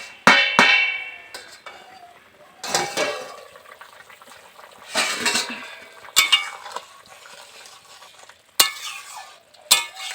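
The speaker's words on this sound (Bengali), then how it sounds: "কিছুক্ষণ পর আমি ঢাকাটাকে আর একটু খুলছি।" A lid on a pot of simmering live koi fish curry clanks sharply a few times as it is handled and lifted, with softer stirring, bubbling and sizzling sounds between the close metallic knocks.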